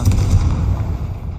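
A Confringo fire-blast spell detonates in Hogwarts Legacy, a single heavy, booming burst with a rumbling low tail that fades over about a second and a half.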